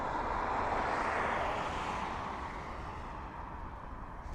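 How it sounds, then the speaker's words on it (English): A Ryanair Boeing 737 MAX 8 arriving at Dublin Airport gives a moderate, steady jet engine roar that slowly fades over a few seconds, with no talking. "737 MAX 8 of Ryanair coming in from Naples"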